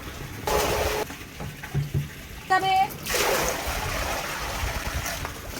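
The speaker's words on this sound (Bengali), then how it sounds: "ও বেচারা ট্যাঙ্ক থেকে ভর্তি করে করে জল ঢালছে ওর মধ্যে" Water tipped from a tank into a rooftop pool, repeated splashing gushes of varying strength with a steady flowing wash, a person speaking briefly over it.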